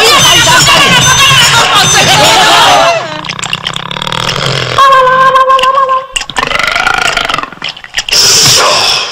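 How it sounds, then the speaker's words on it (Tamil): A tiger in a comedy film scene lets out burps after eating a key, loud guttural belching amid a busy film soundtrack with crowd-like noise and tonal music. "ஒரு சாவி சாப்பிட்டதுக்கு ஏப்பம் விடுது"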